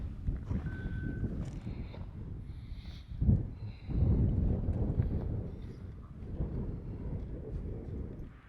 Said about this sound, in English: It is so windy walking out here.